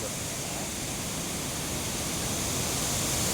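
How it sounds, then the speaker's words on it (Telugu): Water pours steadily downward through an outlet, a constant broadband rush that stays even and fairly loud for the whole stretch with no voices over it. "ఇందులో నుంచి వాటర్ పోతుంది కిందకి"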